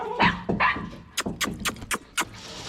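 Several dogs barking outdoors in a residential lane, a burst of sharp yaps and barks in quick irregular succession, moderately close and loud, with short gaps between them.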